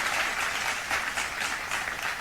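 Audience applauds after a dance performance, a dense, even wash of clapping from a crowd that holds steady throughout at moderate volume.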